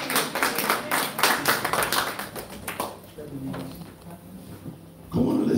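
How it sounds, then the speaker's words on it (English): A church congregation claps in praise during a worship service, a dense burst of applause for the first few seconds that thins out while voices and talking carry over it. "Put your hands together"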